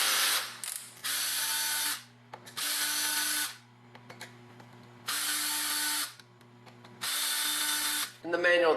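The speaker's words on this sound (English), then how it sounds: "taking the skid plate off or just basically removing those couple screws" Power drill or driver backing screws out of the skid plate on a Traxxas Xmaxx RC truck, four sustained whirring bursts with short pauses between them and faint clicks, close up, with no talk.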